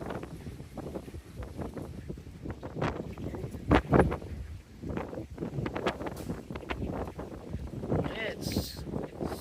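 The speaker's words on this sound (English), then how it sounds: "Super windy." Strong, gusty wind roars and buffets a nearby microphone, with a voice speaking over the blustery noise.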